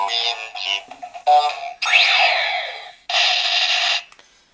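Electronic toy sounds from a DX Astro Switch winch switch on a Kamen Rider Fourze belt: a series of bright synthetic chirps and beeps, then a sweeping whoosh and a sustained buzzy tone, loud and close with no talking.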